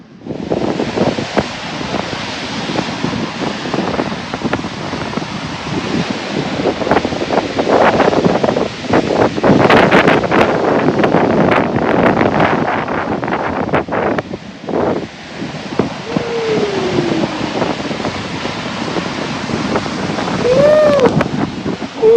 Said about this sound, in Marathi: कसल्या लाटा उडत आहेत